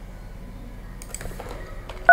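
Telephone keypad dialing on a call through a Ribbon SBC: a low murmur of background noise, then a single short, bright two-tone DTMF beep right at the end.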